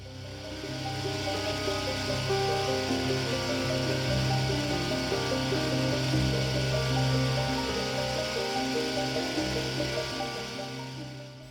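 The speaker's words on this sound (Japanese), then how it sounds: "緊張の中、慎重に穴を開けていきます。" A thin drill bit slowly bores a small centred hole in a metal part for a live steam locomotive's cylinder cock arm shaft, held in a square collet chuck block, giving a steady close machine whir with layered tonal hum throughout.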